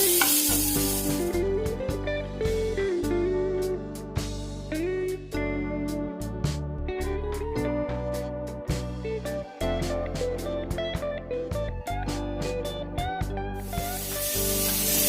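Chopped onions or shallots fry in hot oil with browning garlic for a lemongrass stir-fried chicken, a steady sizzle broken by frequent scraping stirs, close and continuous.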